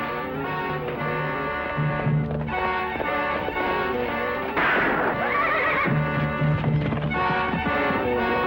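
Horses neigh and whinny repeatedly over a dense, busy background of music, with several loud calls rising and falling and faint hoof clip-clop mixed in.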